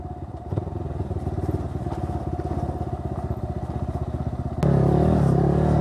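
A cafe racer motorcycle rides over a rough, bumpy road, its steady engine drone running throughout with clattering thumps from the rough surface, then swelling louder near the end.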